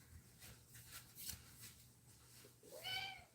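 Kovu the cat meows on a kitchen counter, a short faint cry near the end, with soft rustling and handling noises before it in a quiet kitchen.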